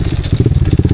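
A motorcycle labors up a muddy clay trail, its engine pulsing in rapid, throbbing beats close by, loud and rough with a chugging rhythm.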